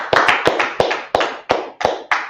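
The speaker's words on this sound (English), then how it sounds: "Clap it up." A group clapping in a meeting hall, about eight sharp, evenly spaced claps in a steady rhythm, loud and close, with no talk over them.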